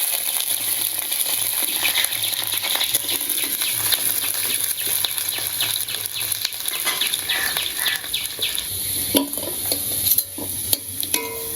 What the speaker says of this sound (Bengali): আলু ভেজে নিন